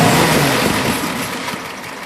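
A 3A L-134 four-cylinder engine idles around 850 RPM with a slight vacuum flutter, a steady close mechanical drone that wavers unevenly and fades a little toward the end.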